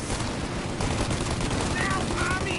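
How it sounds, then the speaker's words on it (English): Rapid gunfire crackles through a shootout in the video game Mafia Remastered. Dense, continuous bursts run under shouted voices. "Shoot out your gun when there's a break in the fire!"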